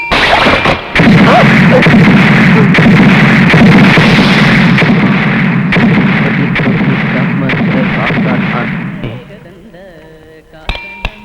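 A long, dense barrage of loud bursts crackles continuously for several seconds, then cuts off, leaving a quieter tail with a couple of sharp pops.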